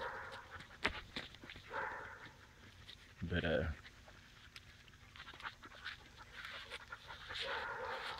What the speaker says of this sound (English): the dogs are just jumping all over me.